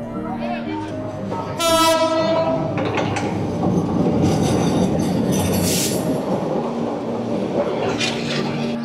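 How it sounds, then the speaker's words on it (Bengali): A train passing close by a fish-selling spot, a rumbling rail roar with clattering wheels and a loud horn blast early on, continuing steadily throughout. "আবার ট্রেন আইতাছে আবার।"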